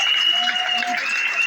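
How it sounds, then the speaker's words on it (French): Audience at an extraordinary party congress applauding, a sustained ragged clatter of many hands in a large hall, with a voice briefly speaking over it. "Applaudissez-le."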